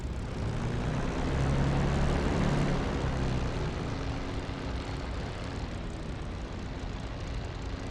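Propeller aircraft engines rumble steadily as planes taxi toward the runway in the DCS World flight simulator, a loud, continuous drone that swells slightly and then holds.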